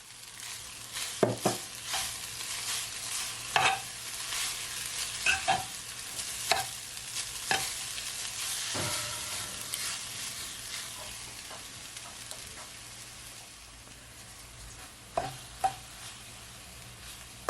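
Chicken and vegetables sizzle steadily in a pan with stir-fry noodles while a utensil scrapes and stirs in repeated sharp clacks, close and alone without talk.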